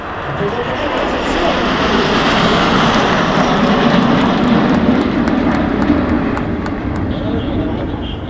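Patrouille de France jets roar past at an air show at Valence-Chabeuil aerodrome, a loud, sustained jet rumble that swells and slowly fades, with an announcer speaking over it.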